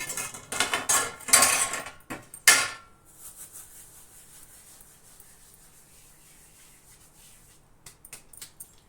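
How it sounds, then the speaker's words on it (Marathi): Dried fenugreek leaves (kasuri methi), warmed on a griddle, crushed by hand into a dish in a home kitchen, giving a few seconds of dry rustling and crumbling near the start, then quiet with a faint hiss and soft handling at the end. "आता मी याच्यामध्ये घालतीये कसुरी मेथी"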